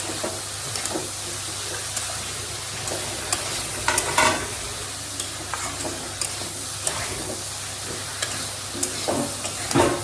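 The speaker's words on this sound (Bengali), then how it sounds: "প্রচুর লতির সঙ্গে যে চিংড়ি মাছ কত সুন্দর করে নাড়িয়ে চাড়িয়ে যে রান্না করছি।" Prawns and taro stolons sizzling in a pan while being stirred, a steady close frying hiss with repeated scraping and clattering strokes of the spoon, no voices.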